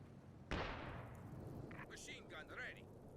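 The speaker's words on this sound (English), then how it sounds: "White Phosphorus comes down" A white phosphorus artillery barrage from a rifle company lands in Company of Heroes 2: one sharp, sudden shell burst followed by a lingering rumble and crackle, fairly faint overall, with a voice briefly audible afterward.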